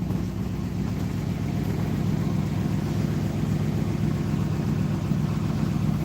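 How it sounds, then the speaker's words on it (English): A classic Ford car engine runs with a steady low rumble close by, holding a constant idle throughout with no clear rev peaks, alone without talk. "Give her a few revs and let's go start Ruby up."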